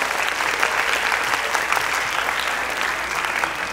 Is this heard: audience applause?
yes